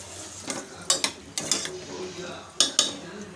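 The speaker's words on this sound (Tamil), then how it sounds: "ஒரு குழிக்கரண்டி பாசிப்பருப்பு எடுத்திருக்கோம் ஒரு பத்து நிமிஷம் ஊற வச்சு வச்சுருக்கோம் அதை வந்து உள்ளே சேர்த்துட்டு மிக்ஸ் பண்ணிக்கலாம்" Soaked moong dal is stirred into cucumber in a bowl, with a spoon scraping and clinking against the sides in several sharp, close knocks over a soft mixing rustle.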